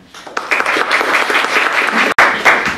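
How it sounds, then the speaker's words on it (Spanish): Audience applauding a speaker at a university book launch, dense steady clapping from a crowd, loud and close, with a brief dropout near the end. "Un aplauso para él."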